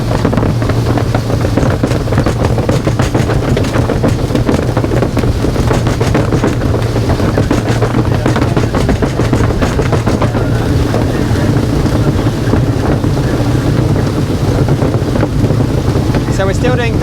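A 2007 Sunseeker Superhawk 43 motorboat runs fast through a turn at about 39 knots, its engines roaring steadily under heavy wind buffeting the microphone and rushing water, loud and close throughout.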